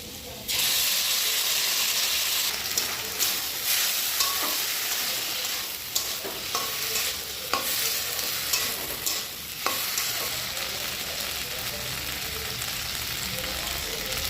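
Paneer and potato curry with ground ginger, cumin and dried chilli paste sizzles steadily in a pan, a continuous bright frying hiss broken by repeated scraping stirs, with quiet talk in places.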